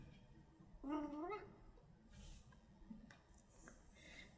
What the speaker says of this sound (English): my mic is somewhat sensitive, so you might hear my cat